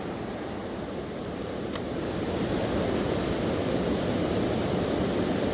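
Water rushes steadily over a river weir, a broad, constant roar close by that swells slightly louder partway through, with no voices.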